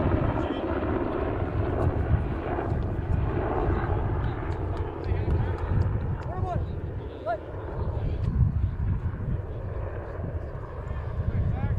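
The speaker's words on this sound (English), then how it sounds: "More airplanes flying by here close to the Redmond Airport." Airplanes passing low over a baseball field near Redmond Airport, a broad sustained engine roar across the stretch with a crowd or announcer faintly underneath.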